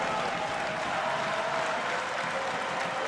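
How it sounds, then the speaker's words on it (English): A packed crowd in a sold-out high school basketball gym in Galesburg keeps up a constant, dense roar of cheering and applause, loud and unbroken throughout. "Crowds jumping up and down on both sides of the bleachers"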